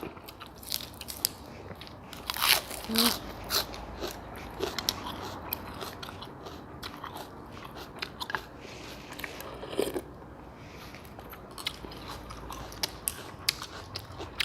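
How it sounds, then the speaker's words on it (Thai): Crunchy fresh vegetables bitten and chewed with small rice noodles in pork noodle soup, irregular crisp crunches and chewing sounds close to the mic, with no talking over them. "ผักนี่กรอบมาก"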